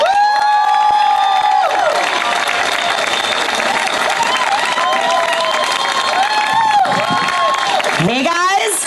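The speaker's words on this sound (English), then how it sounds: "please, a warm round of applause for April Berg" Crowd at a Families Belong Together rally applauding and cheering loudly and continuously, with whoops and shouted voices rising above the clapping throughout.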